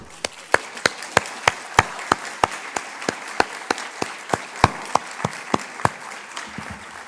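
People clap at a round-table session on patient safety in emergency services. The claps are sparse, distinct and evenly spaced, fairly close and steady, with no talk, and they fade toward the end.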